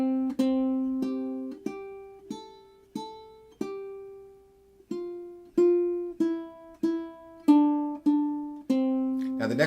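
A ukulele picks a simple melody on its second and third strings, one plucked note after another at a slow, even pace, each ringing and fading before the next, close and clear with no talking.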